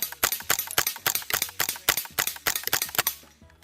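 Suppressed .22 rounds through a HUXWRX Flow 22 Ti suppressor striking steel targets, heard as a steady rapid string of about fifteen sharp cracks, each followed by a brief metallic ring, fading out at the end.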